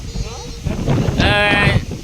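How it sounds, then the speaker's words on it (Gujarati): Strong wind roars and buffets the microphone throughout, among coconut trees as rain sets in, with gusty rushing noise and faint bleating-like tones mixed in. "જોવો તમે કેટલો પવન છે"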